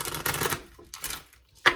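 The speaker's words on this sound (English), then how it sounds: "I'm gonna shuffle one more time just to make sure we're in." A deck of cards is shuffled during a numerology card reading. Two longer riffled bursts of papery clatter come close up, then a sharp short snap at the end, with no voices.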